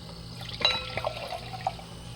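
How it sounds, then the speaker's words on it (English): Giant Sky Sauvignon Blanc from Marlborough, New Zealand, pours into a glass in a soft, steady trickle with faint splashes, quiet and close, with no talking. "it's a hefty pour"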